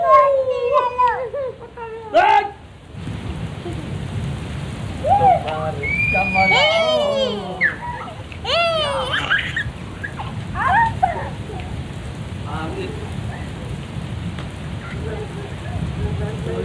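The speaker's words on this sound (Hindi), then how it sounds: "ये देखिए ये बारिश" Heavy monsoon rain pours down steadily over a village, a dense constant hiss that runs the whole time while birds or animals chirp and squeal nearby in short bursts.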